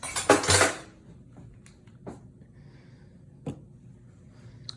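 Banana bread batter is mixed in a bowl, starting with a short burst of utensil scraping and clatter, then sparse faint clinks and taps of a spoon against the bowl.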